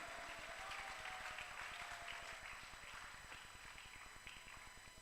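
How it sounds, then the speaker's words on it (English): Audience applause at a technical seminar on electric vehicle technology, a continuous, rapid patter of many hands clapping at an even rhythm, sustained and fairly faint from a hall crowd. "Guys, show some energy and applaud for them"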